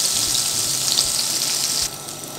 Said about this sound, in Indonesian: saya lanjut menumis bumbu.